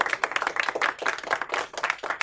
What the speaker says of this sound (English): A sprinkling applause there from the crowd.